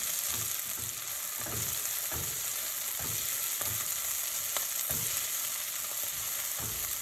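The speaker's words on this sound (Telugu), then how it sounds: "ఇప్పుడు ఒక 5 నిమిషాల పాటు ఆనియన్స్ని బాగా కుక్ చేసుకోవాలండి" Onions fry in a pan for an Andhra thali, a steady dense sizzle and crackle with periodic soft scraping stirs, close and continuous with no talking.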